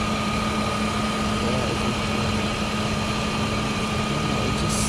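A 25-year-old BMW E36 idling, its engine producing a steady, loud, even hum with a smooth low drone and no revving, running alone and unchanging.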